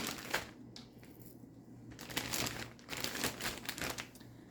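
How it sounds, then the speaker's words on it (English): A plastic gallon Ziploc bag crinkles as sliced food is dropped in, giving soft rustling bursts with brief pauses between them, faint and close. "So now I'm going to throw them into my gallon Ziploc bag."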